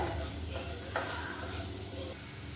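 Egg fries over a medium flame in oil with masala, green chilli and pepper powder, a moderate sizzle broken by a few sharp scraping stirs.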